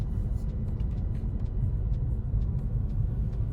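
Steady low road rumble inside a moving car, a continuous close drone with faint tyre noise and no other sounds standing out.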